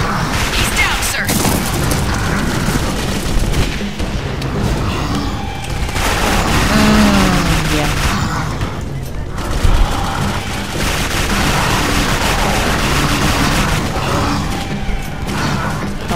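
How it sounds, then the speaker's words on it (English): Rapid bursts of gunfire from Clive Barker's Jericho, loud and dense, repeated volleys with booms and mechanical clatter across the whole stretch, with a few gaps between firefights. "How many shots does he need? I think I've used two clips on him."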